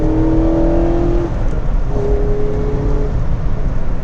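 A Mazda Miata accelerating hard, its engine note holding a steady revving tone that drops briefly at a shift and climbs again, loud and close with constant road roar and no talk.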